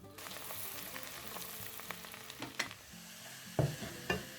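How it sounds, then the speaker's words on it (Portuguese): Onion sautéing in a pan until translucent, a steady soft sizzle under a few scraping stirs and utensil knocks near the end, close and fairly quiet, with no voices. "E agora eu vou refogar."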